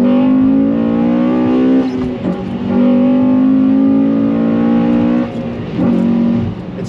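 An 8th-generation Honda Civic Si accelerates hard in a sustained pull, its engine droning loudly with rising harmonics; the note dips briefly at two gear shifts before climbing again, with no talking.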